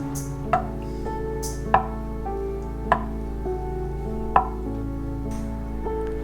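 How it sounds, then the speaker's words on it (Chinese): A knife cuts straight down through soft tofu onto a cutting board, giving five evenly spaced, crisp knocks about a second apart over steady low background hum. "那我们一样的把它平整的摆开，然后刀垂直的往下切"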